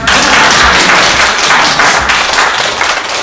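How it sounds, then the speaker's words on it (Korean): A seminar audience at a health lecture claps loudly and densely, a full burst of applause that holds throughout and fades slightly at the end. "박수 한번 주세요"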